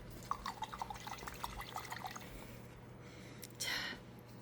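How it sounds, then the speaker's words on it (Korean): Water trickles and drips faintly while geranium cutting roots are rinsed, a soft scattered patter of small splashes ending in a brief louder gush near the close. "물로 한번 씻어 볼게요."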